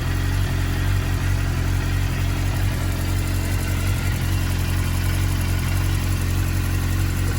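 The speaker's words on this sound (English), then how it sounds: "I like to look at the bike with it running for a second while the oil is heating up." A K6 Suzuki GSX-R750 sportbike idles steadily with fresh oil warming, a loud, even, close engine rumble that holds constant with no revving throughout.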